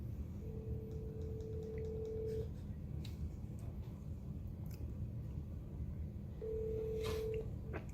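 A telephone on speakerphone gives two long, steady dialing tones separated by a pause, heard fairly faintly over a low background hum with small clicks in between.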